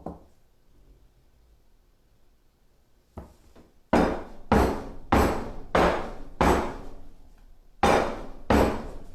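Soap mold filled with mint candy swirl soap being tapped down on a table: a soft knock, then seven loud hollow raps in a steady rhythm, each one close and sharp.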